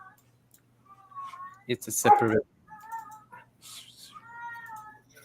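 A cat meows several times, drawn-out and tonal, with a few quieter mews later, while a person speaks briefly over a louder stretch in the middle.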